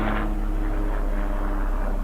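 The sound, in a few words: small airplane flying overhead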